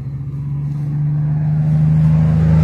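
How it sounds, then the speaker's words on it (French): A 2-litre 16-valve 177 hp four-cylinder petrol engine, an EW10J4S, revs up under the bonnet, a steady droning hum that climbs gradually louder, heard alone with no talk. "2 litres 16, 177 chevaux, moteur très agréable, souple, élastique, coupleux et rageur dans les tours"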